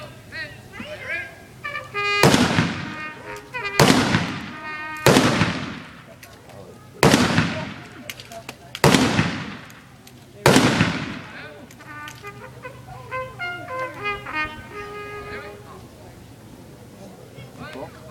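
Historic rifles fired by file at Fort Mackinac, six loud, sharp reports spaced a second or two apart with echoing decay, outdoors, with crowd murmur and voices around the volleys.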